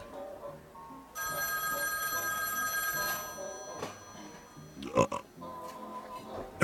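A telephone rings with a bright, sustained electronic trill for about two seconds at a live bar broadcast, then stops; a few faint knocks and background chatter follow.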